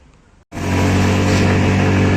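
A Mondial Prostreet 125 motorcycle engine climbs a ramp on a rough road, cutting in abruptly after a brief near-silence and then holding a loud, steady, close-up drone.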